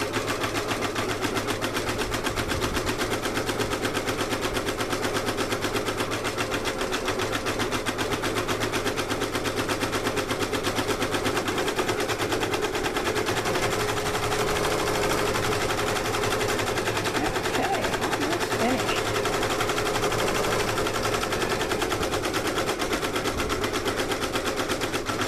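An MB4 multi-needle embroidery machine stitching a onesie held in an easy frame, a rapid, unbroken mechanical chatter at an even rhythm that stays loud and constant throughout, with no voices.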